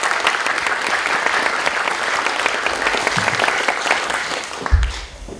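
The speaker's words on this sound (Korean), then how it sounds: "다시 한번 큰 감사의 박수 부탁드리겠습니다." A steady wave of thankful applause rises from the audience at an academic seminar on Christian ethics. The clapping is dense and even, then fades near the end.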